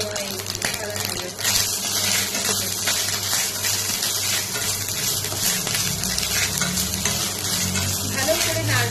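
Grated coconut and garam masala fry in a pan for a Bengali banana-flower dish, a steady close sizzle with scraping stirs and a brief watery gush partway through.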